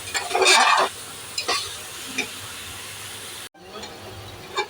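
Spiced ingredients for Bangladeshi-style kacchi biryani are stirred and fried in a pan with chili powder, close sizzling with scraping strokes that come in bursts, then a brief cut and steady frying again, with no voices.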